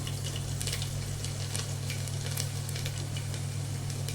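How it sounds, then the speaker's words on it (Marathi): Finely chopped garlic frying in hot oil for tempering, with asafoetida and turmeric in the pan, a steady close sizzle with crackly pops and a low hum beneath, no talking. "लसूण अगदी असा बारीक तुकडे करून घेतलाय बघा लसूण"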